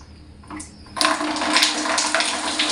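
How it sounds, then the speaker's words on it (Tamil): PVC-plumbed bathroom shower starts up about a second in, turning a quiet room into a loud, steady hiss of spraying water that continues close by with no talking. "ஷவரில் பாருங்கள் சூப்பராக தண்ணி வருது."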